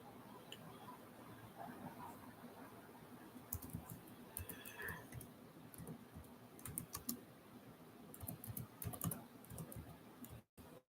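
Keys clatter on a computer keyboard in irregular bursts of typing, close and fairly quiet, with pauses between runs of keystrokes and no talking.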